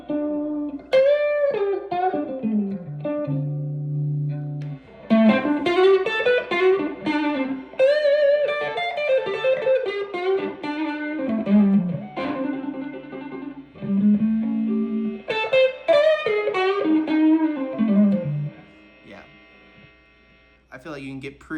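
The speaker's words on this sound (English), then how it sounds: "I feel like you can get pretty loud with the distortion pedals." Distorted electric guitar with heavy overdrive from distortion pedals, played loud in sustained melodic phrases and bends, with brief pauses between runs.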